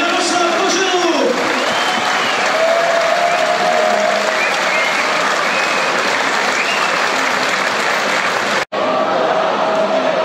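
Stadium crowd at a Czech league football match, Viktoria Plzeň against Dynamo České Budějovice, claps steadily for two club legends, with cheering and faint voices mixed in. The applause stays loud and dense throughout and breaks off once near the end.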